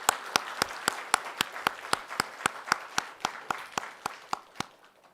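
A church congregation clapping in unison, about twenty sharp, evenly spaced claps in a steady rhythm that fade slightly toward the end, with no talking.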